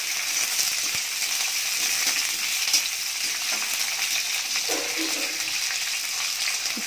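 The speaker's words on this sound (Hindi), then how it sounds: "इसको हम लगातार चलाते हुए भूनेंगे।" Paneer cubes and capsicum fry in a kadai for dhaba-style kadai paneer, a steady close sizzle with soft scraping and clinks as they are stirred continuously, no voices.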